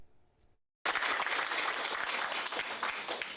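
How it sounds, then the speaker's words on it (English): Applause for disaster responders from eastern Kentucky at a reception in an auditorium, bursting in suddenly after a brief quiet moment and staying loud and dense to the end. "All applause for disaster responders from across eastern Kentucky."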